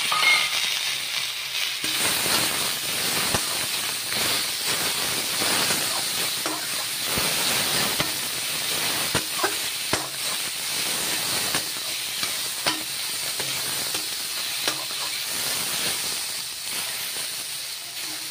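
Tomatoes hit hot oil in a pan for an Assamese-style rohu fish curry with mustard, giving a steady, loud hiss and sizzle throughout with scattered small crackles, close and without any talk.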